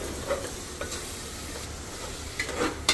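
Paneer biryani masala with curd stirred and fried in a pan: faint steady sizzling under several scraping spoon strokes, some brief and sharp, near and quiet, with no talk.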